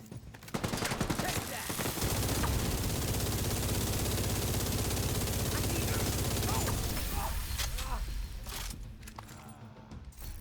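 Rapid gunfire from a sniper encounter in the video game Division 2, a sustained loud burst of shots and impacts for most of the stretch, with a player talking over it.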